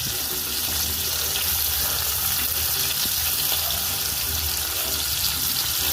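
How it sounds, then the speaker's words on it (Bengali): Tiger prawns fry in mustard oil, producing a loud, even sizzle that runs unbroken for several seconds with no talking. "এটা পুরো সর্ষের তেলে ভাজা হচ্ছে এই চিংড়ি মাছ"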